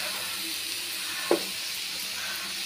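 Leafy vegetable sabji cooks uncovered over a low gas flame with a steady, soft sizzle and hiss, broken once by a brief utensil tap partway through.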